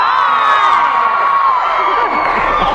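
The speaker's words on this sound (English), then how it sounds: "The lively crowd," A lively crowd at a Supernatural fan convention panel in Denver cheers and whoops loudly, overlapping shouts and screams filling the room continuously.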